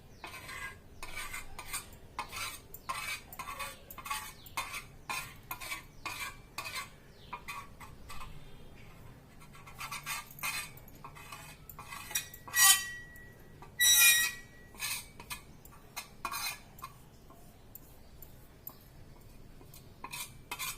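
A metal spoon scrapes and clinks against a dish while collecting homemade waterproof kajal, producing repeated short scratchy strokes in an irregular rhythm, close and fairly quiet, with a couple of brighter metallic clinks partway through.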